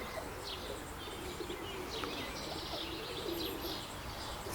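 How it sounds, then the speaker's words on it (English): Roller pigeons, young and old birds, coo softly inside their loft, a steady low murmur of overlapping coos with a few chirps and a brief flutter of wings, heard at a distance and alone. "just thought I'd show you my birds for 2017, my young birds"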